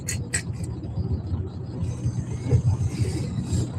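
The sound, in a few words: truck engine and road noise inside the cab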